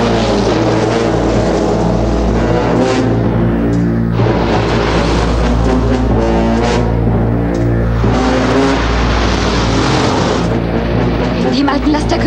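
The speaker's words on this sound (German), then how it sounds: "Dem alten Laster können wir nicht entkommen." An old truck roars through a chase scene, its engine giving a loud, continuous low drone that never lets up, layered under other dense sound.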